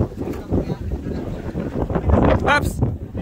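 Strong wind roaring across an elevated view deck, a steady broadband rush with buffeting gusts on the microphone, while voices talk over it.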